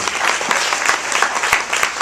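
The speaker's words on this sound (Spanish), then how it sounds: "Den un fuerte aplauso al Señor" A church congregation bursts into dense, loud applause, a continuous wash of many hands clapping at once with a few louder individual claps standing out.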